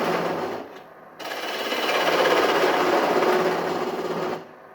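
A wood lathe turns a top while a gouge is worked like a skew chisel for a finishing cut, giving a close, steady whirring hum that dips briefly, then swells into a sustained cutting buzz before stopping.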